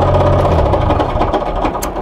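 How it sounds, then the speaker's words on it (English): Damaged car gearbox with a blown second gear, clattering and knocking against a rough engine drone, a steady low hum fading into irregular mechanical rattles, close and loud. "So if you can hear that lovely noise, that would be my gearbox."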